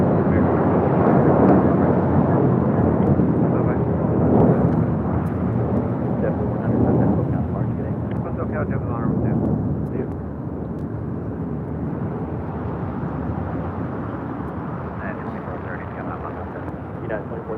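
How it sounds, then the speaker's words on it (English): A JetBlue Airways Airbus A321 airliner at LAX gives a loud, broad jet roar that rumbles steadily and fades slightly toward the end, heard from the airport with people talking over it. "That was JetBlue Airways in the first Mint livery, Flight 100 heading to Fort Lauderdale, Florida, and then A321."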